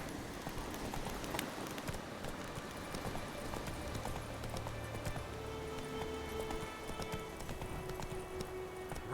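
Roach the horse gallops in The Witcher 3, steady rapid hoofbeats drumming over a soft ambient bed, moderately close and fairly quiet, with a faint tone drifting in the background.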